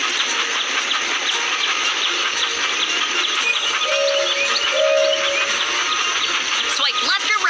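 A train runs along curving tracks in a Thomas & Friends video game, with a constant loud hissing rumble, a couple of brief tonal chimes midway and a rising flourish at the end.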